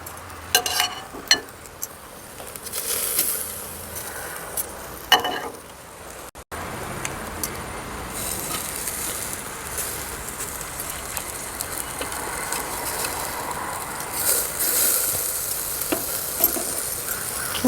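Alfaham chicken pan-frying in oil, a steady soft sizzle with occasional clinks and stirring scrapes, close and moderately quiet throughout, no talking.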